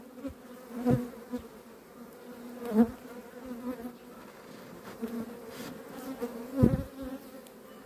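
A blue bee buzzing close by, drifting nearer and farther with a few louder swells, otherwise quiet with no talking.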